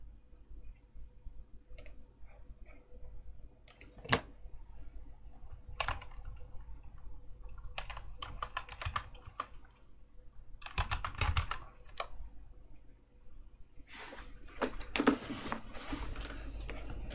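Fingers type on a computer keyboard in bursts of quick clicks with short pauses between runs, close and fairly quiet in a still room.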